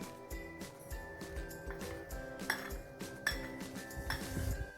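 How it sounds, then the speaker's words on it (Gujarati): Chopped okra being mixed with turmeric and salt in a bowl, heard as repeated soft clinks and scrapes of a utensil against the dish, fairly quiet, with no talking. "હવે આ બધી વસ્તુને આપણે સારી રીતે મિક્સ કરી લઈશું"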